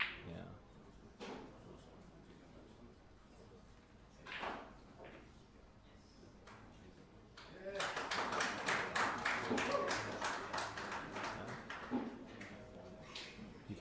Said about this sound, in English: You can hear the cheering from the other tables out there.